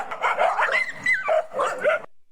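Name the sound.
dog in a played video clip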